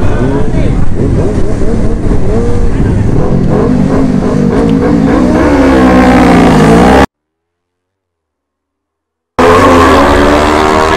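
Motorcycles launching at a street drag race in Barranquilla against a Suzuki GSX-R600: loud, close engines rev and climb in pitch through the gears, cut by a brief silence before the roaring resumes.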